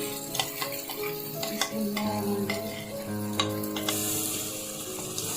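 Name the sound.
stirring fish masala in a frying pan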